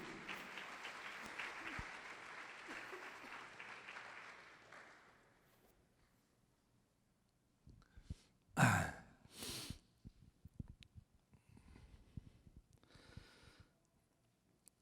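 A short burst of clapping from a church congregation breaks out after a stretch of steady noise, then fades into scattered claps and murmurs.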